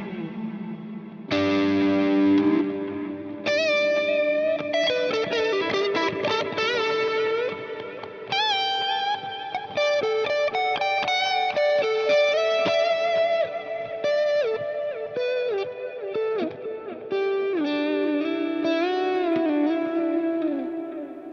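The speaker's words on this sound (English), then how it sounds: "So a lot of delay and reverb, parallel effects, everything going on, and it's really CPU heavy" Electric guitar run through a CPU-heavy preset on a Fractal Axe-FX-style unit with a Bulb Zilla cab pack, stacking heavy delay, reverb and parallel effects; sustained, shimmering chords and notes ring continuously with echoing trails for about twenty seconds, no talking.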